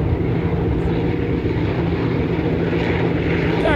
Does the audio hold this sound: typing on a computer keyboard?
no